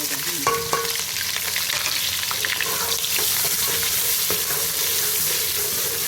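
Onions hit hot oil for chicken biryani and crackle into a loud, steady sizzle, with a few clinks of a utensil near the start; no one speaks.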